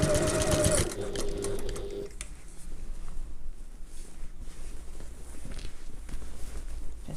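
A sewing machine runs briefly while stitching a handbag seam, a quick rapid whir in the first two seconds, then low room noise with soft handling sounds.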